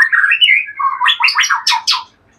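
A caged songbird near a wild white-rumped shama calls loudly and close, with a rapid run of squawking, chirping notes in a quick series, with no talking.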